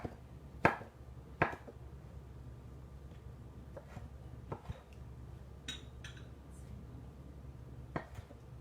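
A knife chops food into chunks on a board for a balsamic chicken and Tuscan bean skillet. A few sharp, sparse thuds are close but fairly quiet against a low background.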